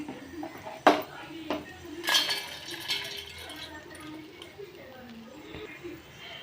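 Fried food, lightly fried for gongura chutney, is moved from a pan into a plate and then a bowl to cool, with a few sharp metal clinks and scrapes of utensils against dishes, loudest early on, under soft background talk.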